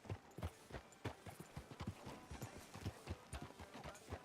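Horse hooves clip-clopping in Red Dead Redemption 2, a steady, rhythmic run of close hoof strikes at a walking pace, clear and continuous with no other sounds.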